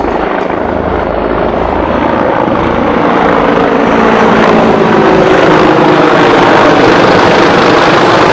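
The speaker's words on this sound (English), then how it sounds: "We got a big chopper cover" A helicopter roars loudly and continuously, its rotor thrum steady and close.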